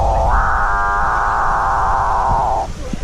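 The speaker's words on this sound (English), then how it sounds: "The eerie call of the capuchin bird." A capuchinbird gives one long, eerie, mooing drone that swells and holds for a couple of seconds before cutting off, loud and close over a faint hiss.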